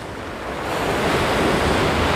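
Sea waves wash onto the beach at White Rocks in Abkhazia, a loud broad surf roar swelling steadily, mixed with wind buffeting the microphone.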